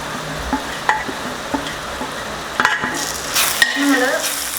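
Crab masala in a pan with turmeric and crushed pepper stirred in, giving a steady sizzle broken by repeated spoon scrapes and clinks against the pan, denser and louder toward the end.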